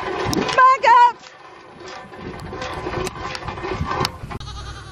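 Goats give a couple of loud, short bleats up close near the start, followed by farmyard shuffling and a person talking.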